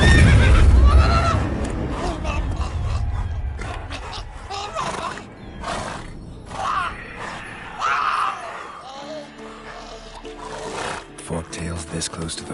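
A horse in The Witcher 3 video game neighs and whinnies loudly near the start, then game ambience and other sounds continue at a lower level.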